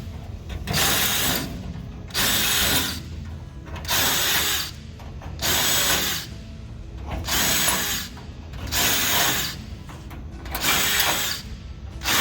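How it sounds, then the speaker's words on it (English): A power drill runs in repeated bursts, drilling holes in the wing skin of a Sling TSi aircraft, each whirring for about a second with brief pauses between, close and steady, no voices. "So this is why you drill the holes first, to make them wider."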